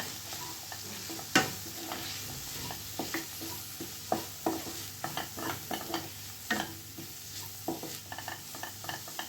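Ivy gourd pieces being stirred in a pan with black masala and red chilli powder, giving soft irregular scrapes and taps over a faint low sizzle.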